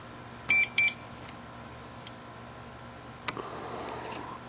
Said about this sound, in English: the fluke meter, when I have it set to ohm and it's a short, then it actually beeps